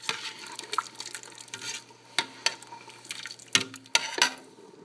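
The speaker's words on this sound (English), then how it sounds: "Just adding one more can of coconut milk." A can of coconut milk is poured into a pot of Hmong khaub poob curry. The soft liquid pour is close and low, broken by a few sharp clinks of the can against the rim.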